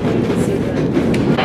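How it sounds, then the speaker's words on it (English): A White Pass and Yukon Route train rumbles loudly and continuously at close range as it exits a tunnel, its rolling wheels giving a dense, steady roar. "You will have a great view of the train as it exits the tunnel"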